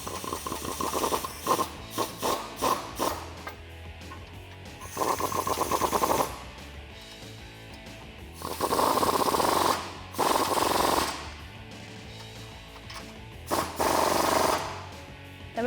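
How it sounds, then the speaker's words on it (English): A ratchet with an 18mm swivel socket tightens bolts on a Jeep Wrangler JK lift kit, giving rapid mechanical clicking bursts that start and stop in several separate runs, close and fairly loud. "we can take an 18mm swivel socket and we can tighten those up"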